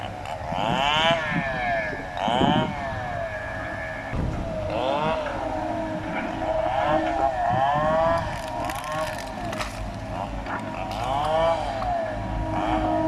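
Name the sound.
Kobelco SK200-3 excavator engine working on rubber wood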